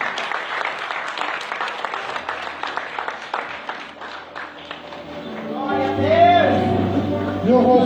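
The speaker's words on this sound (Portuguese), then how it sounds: "Vamos aplaudir o Senhor" A church congregation at a Holy Spirit retreat claps for the Lord in sustained, rhythmic applause, then the clapping fades as music and sung or spoken voices rise over a low hum.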